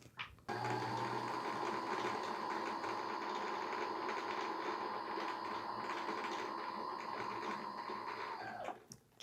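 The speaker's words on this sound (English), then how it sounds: "You can see it's starting to wind some thread on there." A Brother CS6000 sewing machine winding thread onto a bobbin, a steady close mechanical whir with a constant hum that runs evenly for about eight seconds before stopping abruptly.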